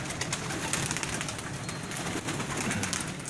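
Pigeons kept for pigeon flying on a rooftop in Sialkot, Pakistan, giving soft continuous cooing and fluttering bird sounds over steady outdoor background noise, with no voices.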